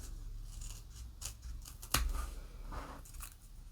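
Scissors trimming small fabric scraps for a sewn fisherman's basket, a few close, soft snipping cuts with one sharp, distinct snip near the middle, heard alone in a quiet room.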